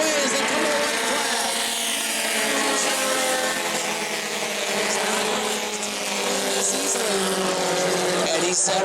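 Bomber-class stock cars roaring around an oval short track at New Smyrna, engines droning loud and steady with shifting pitch as the pack passes, under continuous race commentary.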